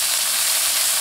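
Aromatics stir-fried in the leftover oil from pan-frying tofu give off a steady, close, bright sizzle with an even hiss and no pauses.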